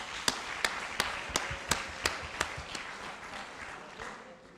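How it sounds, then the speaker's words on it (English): Scattered, slow claps from a small audience at a health review meeting, about nine sharp distinct hits fading into room noise, fairly quiet and without talk. "I want another big clap for Karamoja."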